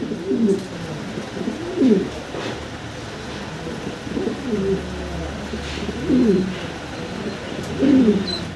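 A male fancy pigeon coos in repeated bouts about every two seconds, a close, low warbling call over a steady faint background hiss.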